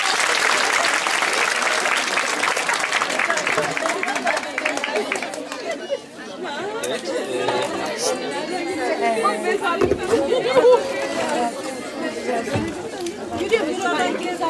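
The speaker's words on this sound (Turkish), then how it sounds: "Kardeşimize büyük bir alkış istiyoruz." A talent show audience at a youth theatre event applauding a contestant, a burst of clapping that fades into loud crowd chatter and talking from the stage.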